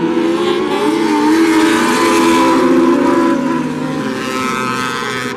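Mini sprint race cars roar at full throttle off the green flag in a dirt-track heat race at Wild Bills Raceway, a dense, loud, sustained engine drone with no talk.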